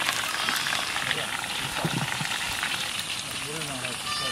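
Potatoes frying in hot oil in a village kitchen, giving a dense, continuous sizzle and crackle that stays loud and close throughout, with a brief murmur of voices underneath.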